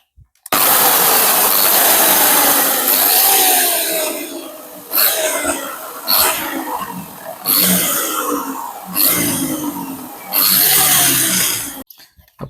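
A power drill bores a hole through a kitchen compost bin for a fitting, loud and close, with a long continuous run followed by several short repeated bursts and pauses.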